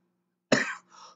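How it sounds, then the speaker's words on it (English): A single short, harsh cough close to the microphone, followed by a softer throat sound after brief quiet. "I'm sorry, I'm gonna be coughing, y'all."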